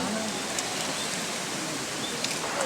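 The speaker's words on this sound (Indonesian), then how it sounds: "Airnya deras banget ya" Heavy, fast-flowing water near a bamboo stand in Bogor, a dense, even rushing roar that holds constant throughout, loud and close, with faint birdlike chirps over it.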